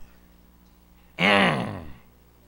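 A single loud, gravelly throat clearing from a man, close and isolated against quiet, lasting under a second.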